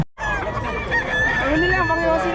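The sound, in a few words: rooster crowing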